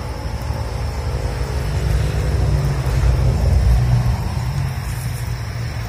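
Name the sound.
water tanker truck delivering water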